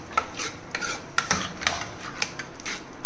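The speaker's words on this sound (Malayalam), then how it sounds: "നല്ലോണം ഇളക്കുക." A jackfruit dish being stirred in a pan, heard as a quiet run of rhythmic scraping and rubbing strokes with light metallic clicks, close and alone.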